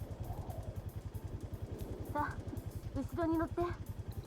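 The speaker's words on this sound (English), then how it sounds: "Then Mari pulled up in a second snowmobile." A snowmobile engine in the Kamaitachi no Yoru video game idles with a rapid, even throb, close by, while a voice speaks briefly over it in the latter half.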